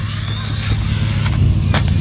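A small Xinlehong Q903 RC car races around outdoors, its electric motor giving a steady high whine under broadband rumble, with a couple of brief sharp clatters near the end; no speech.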